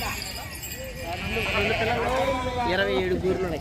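Sheep bleat repeatedly at a busy livestock market in Gudur, with several calls rising over a constant crowd hum and nearby people talking.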